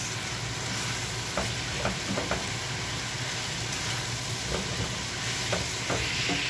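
Chicken pieces and onions sizzle steadily in a hot pan, with a spoon scraping and stirring at irregular intervals, close up and with no talking.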